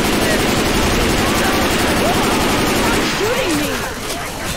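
Sustained rapid gunfire in the zombie shooter Left 4 Dead 2, a loud dense volley that carries straight through and fades slightly at the end, with a voice talking over it.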